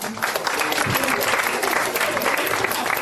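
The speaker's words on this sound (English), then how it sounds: "Everyone clap for Ekta." An audience at a book launch event applauds for Ekta Kapoor, steady dense clapping from a crowd filling the whole stretch at an even level.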